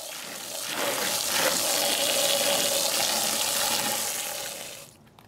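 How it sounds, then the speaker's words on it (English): A power washer sprays water over fiber filter media from an outdoor turtle pond, a loud steady hiss and rush of water that swells in, holds, and cuts off near the end. "After this power wash, I think I can reuse this fiber."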